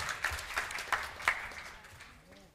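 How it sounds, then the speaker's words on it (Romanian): Light, sparse applause for a speaker at an integrity gathering in a Bucharest hall. A few scattered claps fade out quickly, and a voice begins at the end. "aplauze, vă rog, pentru Alexandrina Deaconu"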